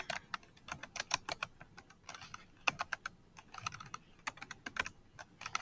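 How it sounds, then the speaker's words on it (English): Fingers typing a name on a computer keyboard, quick irregular bursts of close, light key clicks with brief pauses between words, and no talking. "Then you're going to type your name."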